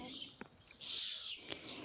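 A common starling calls at a village homestead in the Poltava region, making a few faint, brief chirps and whistles with a quiet voice talking over them.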